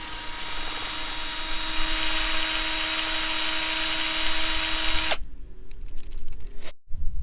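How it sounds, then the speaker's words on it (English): A high-pitched electric drill whines steadily for several seconds drilling into the metal of an old rusting trailer with a maximum-size bit, then cuts off abruptly, followed by softer clatter and brief handling noise. "the drill bit is about the maximum of what this drill can take"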